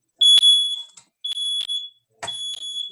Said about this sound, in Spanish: Déjenme apagar el detector de humo